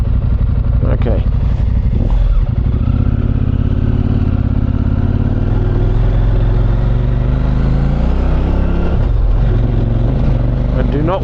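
Motorcycle in off-road rider mode climbing a fire trail in the Blue Mountains, a loud continuous engine drone with rising and falling revs and rough clatter, close throughout under a rider's talk.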